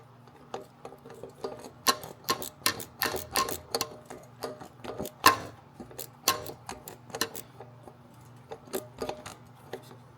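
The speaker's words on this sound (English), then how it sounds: "I'm using a 1/4 inch drive with an 8mm socket" A 1/4 inch drive ratchet turning an 8mm socket while working on a Jaguar S Type R, giving sharp close clicks in quick irregular bursts against a quiet background.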